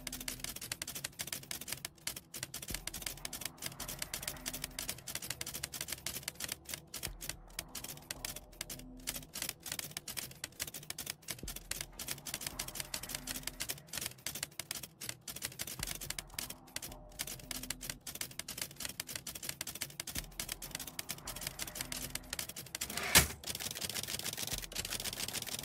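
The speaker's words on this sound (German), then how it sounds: "weil dieses Tippen geht mir schon irgendwie auf den Sack" Typewriter text effect in the RAILGRADE video game, a long run of quick mechanical key clacks in uneven bursts with short pauses, close and steady throughout, with no voices.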